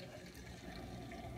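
Boiling kettle water poured into a plastic dish with a little soap for cleaning mold, a steady splashing trickle running continuously for a moment at moderate volume.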